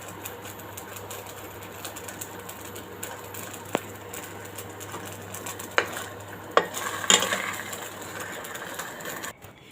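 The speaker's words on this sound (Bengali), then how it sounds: "এই যে পিঠাগুলো এইভাবেই ভেজে নেবেন" Patishapta pitha frying in a pan gives a faint, steady sizzle with a low hum beneath, then a few sharp utensil clicks and scrapes near the end.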